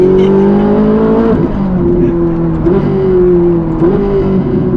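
Ferrari engine revving hard through rapid paddle-shift gear changes, a loud close whine climbing in pitch and dropping sharply at each shift, several quick upshifts in a row.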